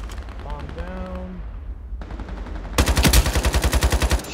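Automatic gunfire from a gun in the video game Ironsight, a rapid burst of loud, close, evenly spaced shots in the final seconds, preceded by quieter game sounds and a brief descending tone.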